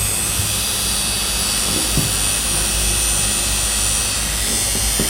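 A small homemade mini drill built from an RS775 motor on a 16V battery whines at a high, steady pitch, running continuously with a few faint clicks and bumps underneath.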